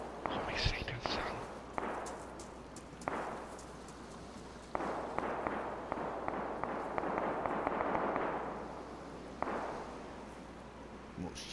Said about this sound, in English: That's a lot of shots going on